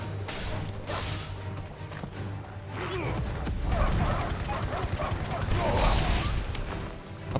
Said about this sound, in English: A poor dog.